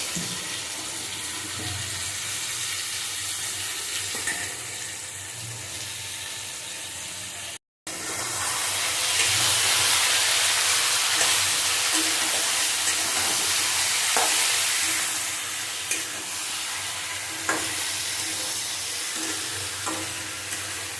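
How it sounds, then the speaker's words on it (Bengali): Ridge gourd stir-fried in a pan with spices and ginger sizzles loudly and steadily, with scraping stirs throughout and a brief cut near the middle. "এবার ঝিঙেগুলো দিয়ে দেবো দিয়ে ভালো করে কষিয়ে দেবো"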